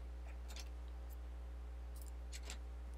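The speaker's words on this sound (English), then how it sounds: "I'm just cutting this strip so that there isn't any too much white on the edge" Scissors snip through a strip of white cardstock in a few brief, faint cuts, spaced apart over a steady low electrical hum.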